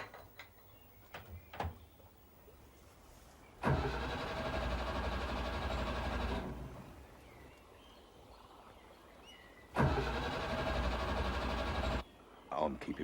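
A 1500cc car engine starts up twice, each time running steadily for a few seconds before cutting out, with clicks and mechanical handling noises between; a voice talks in the background.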